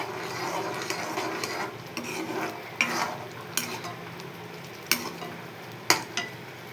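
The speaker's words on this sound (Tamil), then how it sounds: "அப்படி தக்க தக்கான்னு கொதிக்குது." Semolina simmers in hot water in a pan, a steady soft bubbling and sizzle under stirring, with the spoon giving occasional sharp clinks and scrapes against the pan.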